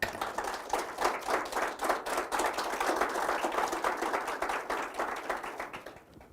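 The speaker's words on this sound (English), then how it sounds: "The people that you hear clapping are our live audience today" Steady applause from a crowd, dense and continuous, fading out at the very end.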